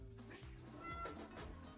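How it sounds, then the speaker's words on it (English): A cat meows loudly, a drawn-out wavering cry, faint under a low hum, with a voice nearby. "Oh my gosh, the cat's out screaming again."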